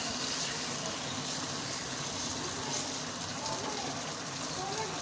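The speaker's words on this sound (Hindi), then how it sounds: "अब इसमें 3 चम्मच के बराबर मैं पानी डाल रही हूँ ताकि ये गोश्त चिकन अच्छी तरह गल जाए।" Water pours steadily into a pot of frying chicken and okra curry in ghee, a constant close gushing rush that fills the whole stretch.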